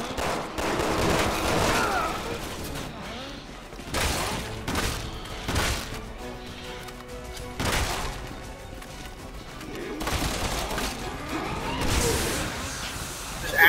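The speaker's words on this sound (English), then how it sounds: "need a grenade. Electric grenade rounds now." Electric grenade rounds fire in the shooter game Resident Evil 6, heavy booms and crackling bursts repeating every couple of seconds amid game noise, with some voices in the mix.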